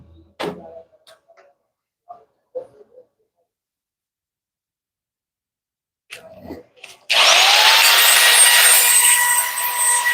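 A power tool starts abruptly and runs loud and steady, polishing the driveshaft tube of a Mitsubishi Canter truck after a few scattered clanks and knocks.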